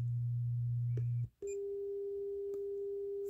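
A Spatial Audio M2 Turbo SE open baffle speaker plays a steady 120 hertz test tone during an impedance sweep, which cuts off after about a second; a brief gap follows, then a higher steady tone holds to the end.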